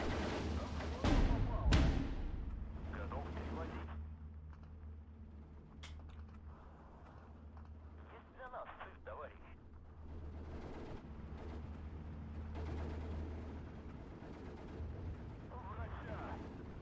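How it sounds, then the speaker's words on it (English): Maxim machine guns fire in Steel Division 2, heard as sharp blasts early on and then ongoing rattling gunfire and distant booms of a battle, with someone talking throughout. "All the Maxims firing away should help pin down these units."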